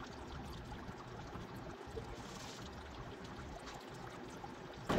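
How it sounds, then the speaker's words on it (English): Water siphoned from one aquarium down into another flows in a steady, soft trickling stream, continuous and fairly quiet, with no voices. "I'm just going to start pulling water from the 75 down to the 55"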